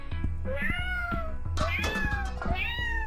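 Several kittens in a horror video game meow repeatedly in high, overlapping cries, close and loud, with a steady game-like background hum underneath.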